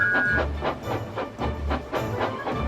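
Two tank engines pulling a train of stone chug along in rhythmic, repeating beats with a low rumble and rail clatter underneath, close and steady.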